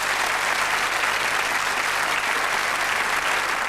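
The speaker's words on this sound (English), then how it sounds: "Give him a round of applause" A television game show studio audience applauds with steady, dense clapping that holds at an even, fairly loud level throughout, with no voices standing out.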